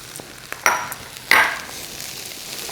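Scallion whites with red and green peppers hitting a hot pan, two sharp sizzling bursts as the vegetables go in, then a steady quiet fry.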